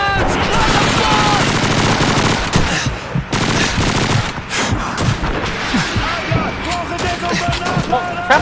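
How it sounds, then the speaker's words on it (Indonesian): Dense gunfire from Call of Duty 2, a World War II shooter, with rapid machine-gun bursts and rifle shots crackling continuously and loudly, mixed with in-game battle shouts. "Oh, siapa yang nembak tadi ya?"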